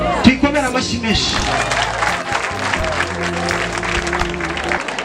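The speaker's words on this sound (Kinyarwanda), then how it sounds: "Tuyikomera amashyi menshi" A church congregation breaking into applause, a dense sustained clapping from a crowd mixed with voices and music-like tones, loud and close throughout.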